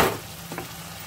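Tomato sauce sizzling steadily in a pan with a peas, potato and paneer curry, a close, continuous frying hiss over one short moment.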